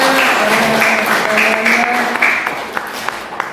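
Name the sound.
audience applause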